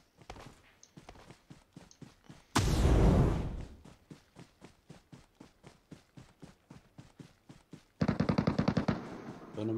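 Rapid, evenly spaced automatic gunfire from PUBG Mobile on the Erangel map. The bursts rattle on steadily, broken by a loud, dense blast and later a heavier cluster of shots. There is no talk over it.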